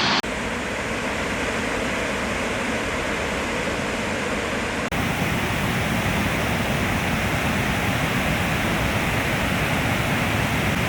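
A loud, powerful waterfall, a dense continuous roar of falling water heard up close with no pauses, growing slightly fuller partway through.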